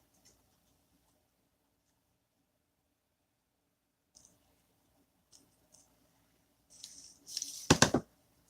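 Scissors cutting through paper: mostly near silence with a few tiny ticks, then a short, close burst of crisp snipping and rustling near the end.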